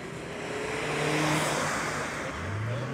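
A car engine drones steadily nearby with a broad roar, and a low rising tone near the end suggests it is revving up. No voices are heard.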